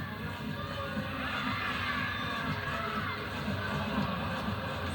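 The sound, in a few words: crowd cheering at women's gymnastics meet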